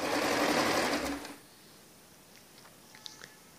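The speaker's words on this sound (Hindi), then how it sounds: "बाजू को हम अंदर की तरफ रखते हैं और ऐसे सिलाई लगा लेते हैं।" Sewing machine stitching a blouse sleeve seam, a loud steady run for over a second that stops abruptly, followed by quiet with a few faint clicks.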